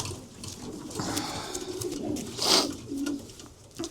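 Racing pigeons coo softly and repeatedly, low throaty calls overlapping, with one louder coo standing out nearby.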